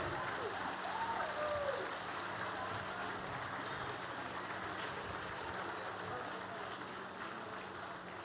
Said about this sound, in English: Kerala Literature Festival is giving her a standing ovation